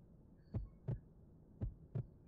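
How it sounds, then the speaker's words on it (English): Two pairs of heartbeat thumps, lub-dub, in Garry's Mod, low and soft over a faint steady hum with no talking. "Heartbeat."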